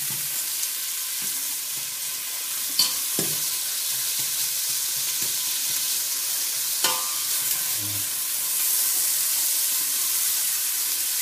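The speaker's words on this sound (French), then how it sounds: "Et je remets mon faitout sur le gaz et je mets les oignons." Onions fry in a cooking pot on a gas stove, a continuous soft sizzle with occasional stirring clatters and scrapes, close and fairly quiet.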